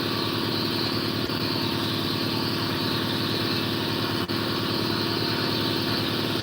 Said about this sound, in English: turn off compressor